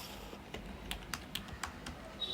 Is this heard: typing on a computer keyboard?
yes